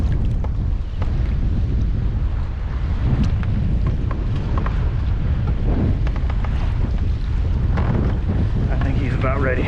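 Strong wind buffets the microphone on a small fishing boat offshore, a heavy continuous roar with gusty rumbles and faint splashing throughout.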